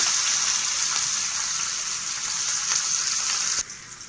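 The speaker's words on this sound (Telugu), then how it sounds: "ఆయిల్ అయితే హీట్ అయ్యింది. దీంట్లో కొంచెం ఇంగు వేస్తున్నాను." Asafoetida and ginger pieces sizzle in hot oil for a tempering, a steady bright crackling hiss that continues close up and stays loud until it suddenly drops near the end.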